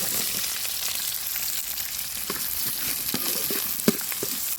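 Chopped small onions hit hot oil with fenugreek seeds for a fish curry, giving a steady loud sizzling crackle punctuated by spoon-stirring clicks and scrapes.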